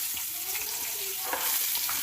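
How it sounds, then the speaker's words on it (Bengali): Nigella seeds and green chillies tempering in hot oil for a fish curry, giving a close, steady sizzle that swells louder after about a second, without talk. "কালো জিরে আর কাঁচা লঙ্কা ফোড়ন দিয়ে দেবো"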